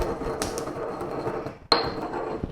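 Toasted spices being ground for dan dan noodles, a dense crunching, scraping texture heard close up, broken by one sharp knock partway through, with no talking.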